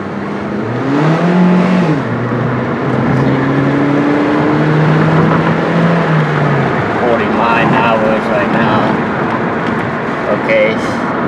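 A Honda Civic with a misfire accelerates on a road test drive, its engine drone rising in pitch and then holding steady inside the car while someone talks over it.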